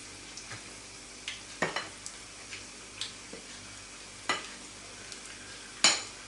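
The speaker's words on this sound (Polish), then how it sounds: "Musimy smażyć w dosyć dużej ilości tłuszczu z jednej i z drugiej strony" Carp coated in pancake batter fries in a generous amount of hot fat, a quiet steady sizzle broken by irregular sharp pops and spatters.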